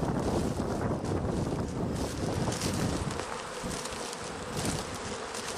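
A swarm of bees buzzes loudly and continuously around a bean field, a dense close drone mixed with wind rumble on the microphone.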